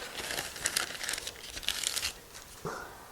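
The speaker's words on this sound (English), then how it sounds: "just fold the parchment paper and just place it underneath" Parchment paper being folded and creased by hand while making meat pies, a close, steady crinkling and rustling with a few sharper crackles and a brief tearing-like rasp near the end.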